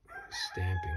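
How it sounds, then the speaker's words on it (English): Backyard chickens, a rooster among them, let out a short crow in the background, loud against room noise, with a brief spoken word just before. "You can hear my chickens in the background."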